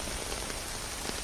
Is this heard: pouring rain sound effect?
yes